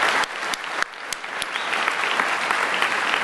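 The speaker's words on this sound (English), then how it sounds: "if I get a round of applause for Lock" A large hall crowd at the DEF CON 22 closing ceremonies breaks into sustained applause, a dense wash of clapping with a few sharp individual claps popping out near the start, then settling into a steady roar.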